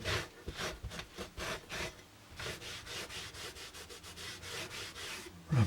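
Teak oil is rubbed by hand into a slate house sign: rapid, regular swishing strokes of cloth on stone, close and continuous, with a brief knock at the very end.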